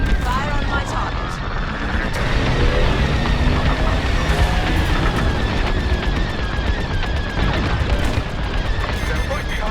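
Dense, continuous starfighter blaster and cannon fire in the Star Wars Squadrons space combat game, loud rapid bursts layered with booming explosions throughout, with a faint voice over the battle.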